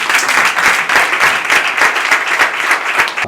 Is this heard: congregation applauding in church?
yes